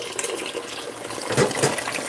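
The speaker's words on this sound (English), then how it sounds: "Gonna put some more water in this." Tap water runs steadily into a kettle in a kitchen, a continuous hissing splash at moderate volume that swells slightly toward the end, with nobody talking.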